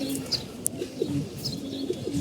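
Pigeons cooing in a home pigeon loft, soft repeated low coos close by, with a few faint higher chirps over steady background noise.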